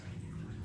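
Water trickles steadily as a continuous low burbling wash with no breaks, heard outdoors in Central Java.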